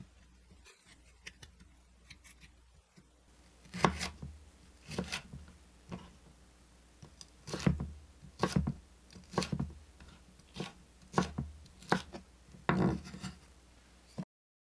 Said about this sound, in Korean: 피망은 가운데 심지와 씨앗을 제거한 후 양파와 같은 크기로 썰어 준비합니다.